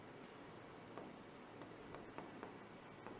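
A note being written by hand during a fitter trade theory lesson, heard as faint, scratchy pen strokes with a few light taps, quiet and close, with no talking.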